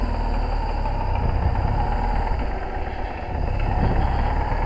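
BMW R1200C motorcycle idles close by with a worn, noisy clutch thrust bearing, giving a steady mechanical drone that runs unbroken with no talk over it.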